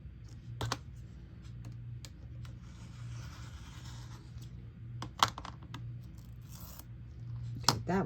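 Scissors snip through a paper strip, cutting it in half while crafting a shabby vintage notepad holder, with a few sharp close cuts and rustles over a low steady hum.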